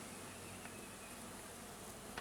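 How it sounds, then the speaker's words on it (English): Honey bees buzzing on a frame lifted from a hive, a dense, steady hum that fills the whole clip with no pauses or voices. "This frame is not going to stay in this hive, so I'm going to shake the bees off"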